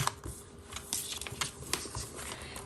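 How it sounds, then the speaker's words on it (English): A small paper trimmer slicing through a greeting card, giving a run of light scraping and clicking sounds up close, with a few sharper ticks as the blade travels along the card. "I'm going to use the small trimmer to cut it"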